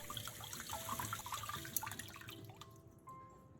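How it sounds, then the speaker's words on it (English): Potatoes are rinsed under running water, a faint trickling and dripping with light splashes and handling sounds that fade out toward the end. "Then rinse them thoroughly under running water."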